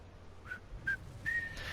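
A person whistles a tune in three short rising notes, the last one held longer, against a low steady background hum.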